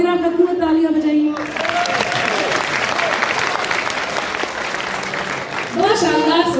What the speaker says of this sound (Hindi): जोगीरा लखनऊ तालियां बजाइए।